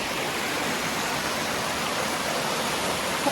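A hidden waterfall at Alibag during the monsoon pours in a steady, dense roar of rushing water, close and continuous without voices.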